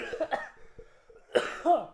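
Two loud, sharp coughs, a short burst near the start and another hacking cough after a brief pause, close to the microphone.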